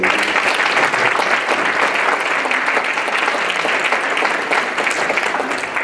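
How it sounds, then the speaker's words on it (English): An audience at a college entrepreneurship keynote gives a round of applause, a full, steady wash of clapping that stays loud and close before easing slightly near the end. "Give Mac another round of applause."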